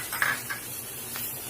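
Spoon clinks and scrapes against a pan while sliced onion and capsicum are stirred and sautéed, a few short metallic taps over a faint background hiss.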